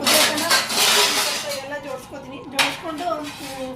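Steel pots, pans and dishes clank and clink as they are set out in a home kitchen while evening cooking is prepared, with a few bursts of metal scraping and a voice speaking in between.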